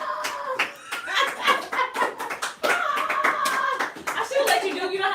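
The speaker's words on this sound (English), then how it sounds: "He wants to clap." Scattered hand claps, a few sharp slaps in uneven rhythm, heard close by during a podcast conversation, with people talking and laughing over them.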